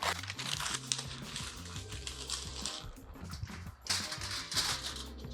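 Butcher paper wrapped around a smoked brisket is trimmed away, giving a steady run of crinkling, rustling and snipping over continuous background music, with one brief lull before the paper noise picks up again.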